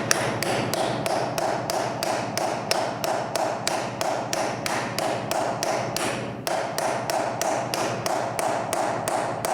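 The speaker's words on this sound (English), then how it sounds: "And hit your bearing installation socket. And you're hitting it diagonally all the time, never in the same spot twice." Steady rhythmic metal hammer taps driving a bearing installation socket to seat a rear wheel bearing on a motocross/enduro bike, roughly three or four sharp blows per second, close and alone with a brief pause partway through.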